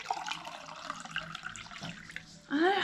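Water pours from a 2-litre dispenser with a spout; after steady low background noise, a loud filling gush starts near the end, its pitch rising as the vessel fills.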